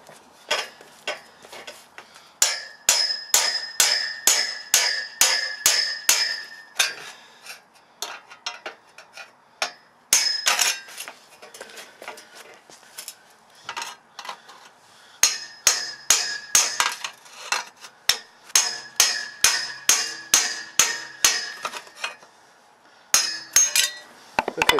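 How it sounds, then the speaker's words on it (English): Rapid bursts of sharp metallic hammer strikes ring out close by, driving a chisel through steel welds on a fruit cage in repeated volleys separated by short pauses. "put the chisel all the way through to this far weld here, and just drive it with the hammer"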